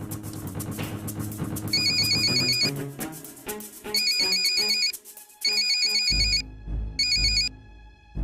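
A phone ringtone plays in repeated bursts of bright electronic tones over a busy musical backdrop in a Hindi horror film, ringing several times with short pauses between rings.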